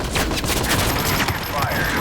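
Dense gunfire from a free-to-play shooter game built around the M4A1 rifle, continuous overlapping rapid shots throughout, loud and busy, with a player's voice talking over the battle.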